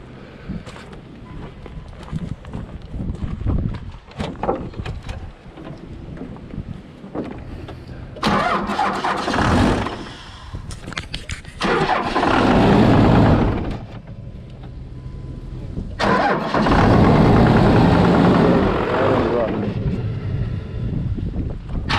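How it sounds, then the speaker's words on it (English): A diesel truck engine cranking and starting after glow plug warm-up, loud and close, with repeated bursts of rough churning and revving separated by quieter gaps, and wind buffeting the microphone. "So I just got to let the glow plug do its thing. And I'll start."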